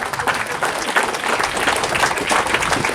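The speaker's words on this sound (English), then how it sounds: "I would want each one of you to applaud the efforts of our Ranji team" An audience at a cricket association event applauds the state Ranji Trophy team, a dense, loud, steady wash of many hands clapping throughout.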